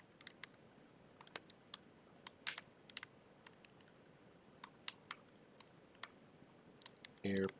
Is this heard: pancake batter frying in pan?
no